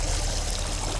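Water pours and streams steadily past a caught barracuda's mouth and gills at the boat's side, a loud, close, continuous rushing wash with no pauses.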